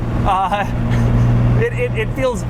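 Interior of a 2022 Lamborghini Countach on the move, a hand-built supercar: steady loud engine drone with bumping and rattling from the cabin, under continuous talk throughout.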